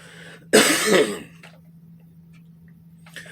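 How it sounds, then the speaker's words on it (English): A single harsh cough with throat clearing, close and loud, lasting about a second, followed by quiet room hum and a few faint clicks. "I'm going to cough here in a second."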